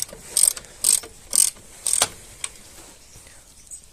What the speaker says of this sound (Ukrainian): Так, ладно, откручиваем тягу. Гайка на 17.